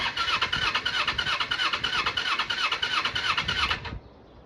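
A Kawasaki Eliminator EL 250 motorcycle engine revs in quick repeated pulses, loud and close, a rhythmic burbling rise and fall that cuts off abruptly near the end.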